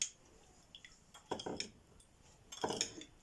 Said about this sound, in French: Là, on va mélanger tout ceci ensemble